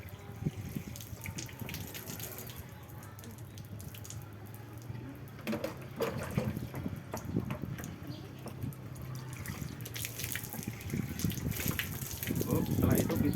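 Water is poured over a body during Islamic ritual washing of the deceased, splashing and gushing in uneven bursts that grow louder toward the end, while a person talks over it.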